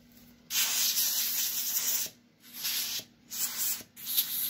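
Rustoleum enamel spray paint hissing from a can onto a guitar body, in three close, steady bursts separated by short pauses, with no voices.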